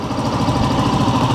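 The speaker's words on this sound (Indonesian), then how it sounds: "Okay, ni bunyi dia dalam keadaan idle." A 2023 WMOTO Gemma 125cc scooter engine idles up close, a steady, loud, quick-pulsing chug with a fine rhythmic knock and no voices over it.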